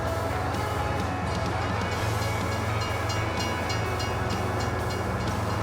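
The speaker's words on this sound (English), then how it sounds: "Nearly got hit by a train." A train rolls past in Farming Simulator 25, a steady loud rumble of wheels and cars with faint clacking on the rails, close by and continuous throughout.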